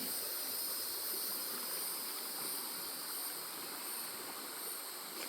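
A creek near a logging road flows steadily, a quiet, even hiss of running water with no breaks or voices, heard throughout.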